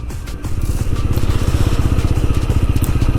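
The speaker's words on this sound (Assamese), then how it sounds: "মই বাইকখন লৈ গৈ আছোঁ" Motorcycle engine running steadily on an evening road ride, a close, continuous pulsing drone with rapid regular firing beats after a brief quieter start, loud and unbroken throughout.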